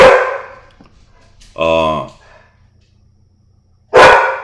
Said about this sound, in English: My dog's about to freak out.